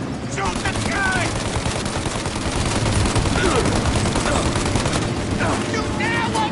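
Gunfire fills a Mafia Definitive Edition shootout, with dense overlapping bursts of automatic and rapid shots rattling nonstop, loud and close, while voices shout over the din.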